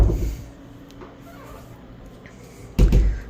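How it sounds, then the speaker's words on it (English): A hotel room door at a resort in Lake Buena Vista, Orlando, swinging shut with a single solid thud near the end, close by, following a soft rustle. "We'll close the door."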